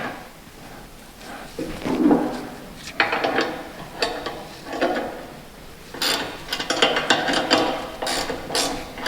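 Ratchet wrench clicking in bursts while tightening the mounting bolts of a vehicle winch, with rapid pawl clicks and some mechanical clanks, close up and fairly loud, no talking.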